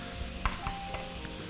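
Pieces of lung frying in a pan for a lung-and-onion salad give a steady close sizzle with a few sharper pops and crackles, with no talking.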